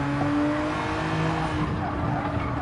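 A race car in Gran Turismo 7 at Spa, a loud continuous engine drone with steady harmonic pitch lines that shift slightly as it runs, close and dominant with a hiss of tyre noise underneath.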